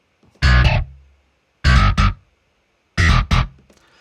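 Distorted GroveBass virtual bass tone sounds a two-note phrase three times in a steady rhythm, a fuzzy, saturated attack on each note, close and loud with silence between phrases and no speech.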